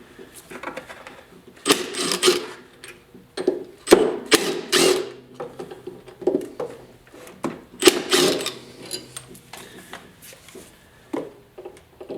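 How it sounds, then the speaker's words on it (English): Number 30 Torx driver removing the blade screws from a Dewalt DW735 thickness planer spiral cutterhead, heard as repeated short bursts of power-driver whirring and ratcheting with pauses between them, close and fairly loud. "We're going to remove these blades. Take a number 30 Torx."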